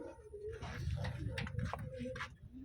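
Pigeons cooing in a Taiwan pigeon loft, soft repeated low coos against a steady low rumble, with a few brief sharper calls mixed in.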